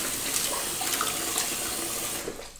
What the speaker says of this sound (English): We close the water.